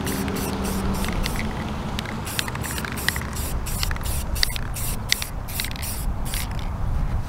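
UV resistant clear coat sprayed from a can in a second coat. It makes a continuous close hiss in repeated short bursts, with faint background hum and no talking.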